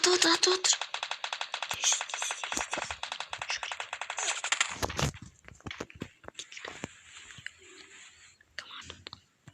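Rapid bursts of gunfire in the game Free Fire rattle through the first half, then scattered single shots and footsteps follow, fairly loud and close.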